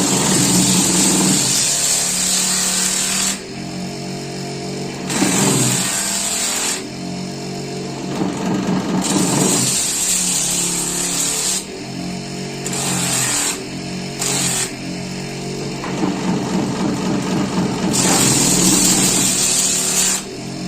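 A grinder machine finishes the edges of die-cut slippers in a small workshop, giving a loud continuous motor whir that rises and falls in bursts as pieces are pressed against it, with no talk.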